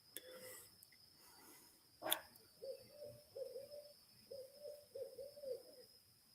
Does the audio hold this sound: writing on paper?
no